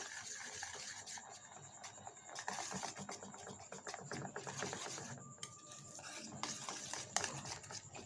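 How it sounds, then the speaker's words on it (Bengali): A spoon works packet milk into a thick palm fruit batter in a bowl, giving soft, irregular scraping and stirring strokes, close but quiet. "দিয়ে খুব ভালো করে এটাকে মিশিয়ে নেব"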